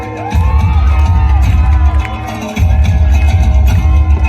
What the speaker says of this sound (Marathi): एका जोरदार टाळ्या.